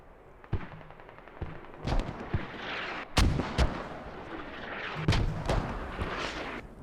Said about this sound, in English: Mortars again, still being utilized from the north